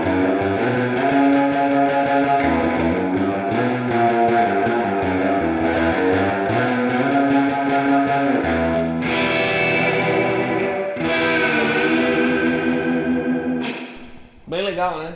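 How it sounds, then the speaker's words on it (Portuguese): Electric guitar played through the Fender Spring reverb model on a Headrush MX5 multi-effects pedalboard, a continuous surf-style phrase with a drippy spring tail, loud and alone, stopping abruptly near the end. "O primeiro que a gente vai pegar aqui é o Spring Reverb, né, que é baseado no Fender Spring, né, um reverb de mola"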